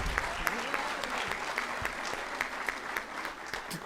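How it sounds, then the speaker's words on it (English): Audience applause for a teacher at a national orders ceremony, steady dense clapping at moderate distance, fairly soft, with faint talk underneath. "Can we give a hand to the teacher?"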